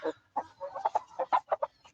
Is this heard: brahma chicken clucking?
yes